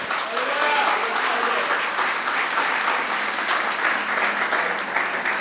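Church congregation claps during a worship service, a steady, full round of applause filling the room with voices mixed in throughout.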